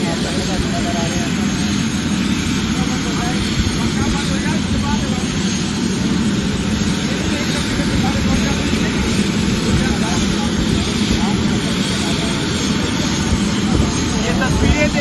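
Steady, loud rotor and engine roar from inside a helicopter cabin holds unbroken for the whole stretch, a continuous broadband drone with no pauses.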